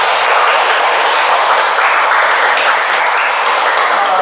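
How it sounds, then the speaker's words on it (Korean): An audience at a secondary-school team debate final bursts into dense, sustained applause for the contestants, many hands clapping loudly and evenly throughout. "모두의 수고를 했다는 의미에서 박수를 드리겠습니다"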